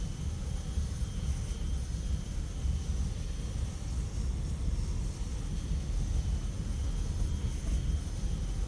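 Mirage F1CE jet in the DCS flight simulator accelerating down the runway for takeoff, a steady, loud broadband engine roar with deep low rumble that holds constant throughout.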